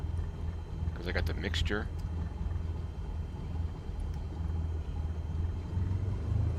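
A piston aircraft engine in Microsoft Flight Simulator 2020 runs at low idle near 600 RPM, a steady low rumbling drone that carries on throughout while someone talks briefly over it.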